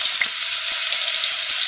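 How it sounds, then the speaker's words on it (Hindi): Boiled potatoes frying in hot oil in a kadhai produce a loud, unbroken close-up sizzle with a few faint clicks beneath it. "इसे हम अच्छे से फ्राई कर लेंगे आलू को"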